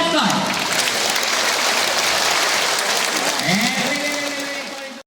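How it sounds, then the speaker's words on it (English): A zoo sea lion show audience claps hard and keeps going, trying to distract the animal. The dense applause holds steady for about five seconds, with a few voices cutting through, and then tails off. "Now you all can try to clap as much as you want to distract him."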